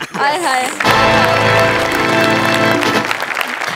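A studio audience claps during a Marathi TV comedy show, Maharashtrachi HasyaJatra: a loud, steady burst of applause rises suddenly and carries on, with voices and music sounding over it.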